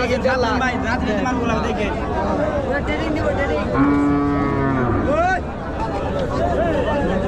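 Cattle moo loudly amid the constant hubbub of a crowded Eid cattle market in Jamalpur, Bangladesh; one long, close bellow rises over the din of people chattering nearby.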